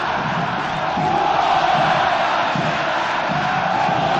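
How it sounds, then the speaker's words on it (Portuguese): A football stadium crowd at a 1998 Libertadores group match between Vasco and Chivas roars and chants in a dense, sustained wall of voices, loud and continuous throughout. "E a torcida grita, olé!"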